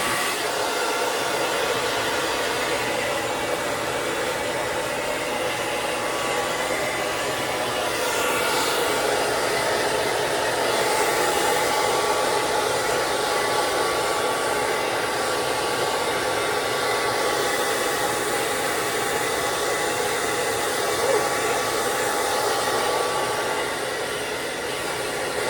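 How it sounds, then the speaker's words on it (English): A handheld blow dryer on its high setting gives a steady, loud, close whoosh and whine that holds evenly for the whole stretch without pause. "And now I have my handy dandy blow dryer."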